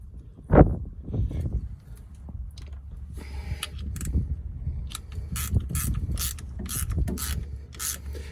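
Brake caliper piston compressor tool being tightened against a pad on an F-150, giving close, quiet ratcheting clicks and creaky mechanical turning in short irregular bursts, with one sharper knock near the start.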